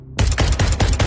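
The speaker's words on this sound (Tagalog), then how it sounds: "Kinabahan ako nang marinig ang malalakas na putok ng baril" A burst of Armalite rifle fire in a dramatized shootout: about five loud, sharp shots in quick, even succession after a brief silence, close and with no voices over them.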